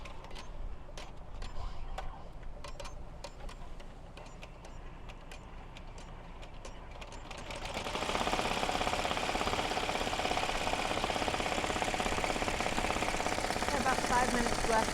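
Melco Bravo EMT16X embroidery machine stitching a patch outdoors, first a faint rapid mechanical clatter, then from midway a much louder, dense whirring rush that holds steady to the end.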